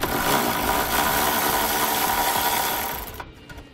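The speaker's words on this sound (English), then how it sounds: "Grab a 10 millimeter socket and you can pull that bolt out." A ratchet spins a 10 mm socket to back a bolt out of the tow hook mount on a 2017 Nissan Rogue, a rapid, steady close whirring clatter that runs for about three seconds and then stops.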